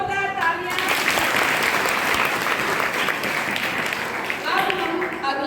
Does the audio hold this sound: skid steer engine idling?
no